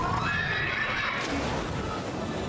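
Dragon-horse mount in World of Warcraft Dragonflight gives a clear whinnying neigh with a rising, wavering pitch, followed by clopping hoof sounds, close and fairly loud.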